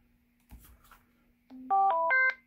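Retevis RT-72 DMR handheld radio keypad tones: a short run of clear electronic beeps, rising step by step in pitch as buttons are pressed, preceded by faint handling clicks in a quiet room.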